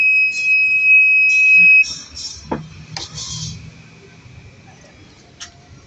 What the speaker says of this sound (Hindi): ये साइड स्टैंड की आवाज़ है।